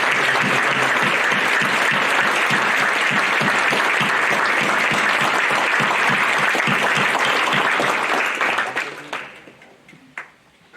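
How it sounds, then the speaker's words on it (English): Sustained, loud applause from an audience at a Veterans Day event honoring veterans, dense clapping holding steady for about nine seconds before tapering off into a few scattered claps. "please give a round of applause for the veterans who are with us here today"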